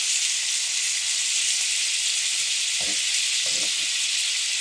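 An Oklahoma fried onion burger sizzles steadily in a cast iron skillet after being flipped, a loud continuous hiss with a few faint clinks near the end.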